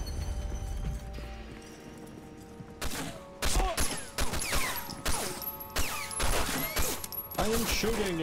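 Rapid bursts of gunfire from the World War II shooter Medal of Honor: Frontline, loud and clustered in the second half after a quieter start, with a player talking in between.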